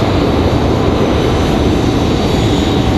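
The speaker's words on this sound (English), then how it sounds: "Got an A220 ready to go over here. Looks like an A220 100 for Delta Airlines." Delta Airlines Airbus A220-100 jet at Raleigh-Durham International Airport, a loud, steady engine roar and rumble carrying unbroken across the airfield.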